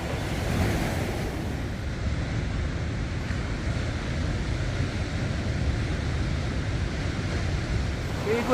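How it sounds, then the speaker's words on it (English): Big ocean waves roll onto the Lost Coast shoreline in a steady, loud, broadband roar with wind buffeting the microphone throughout and no voices. "Big waves out there."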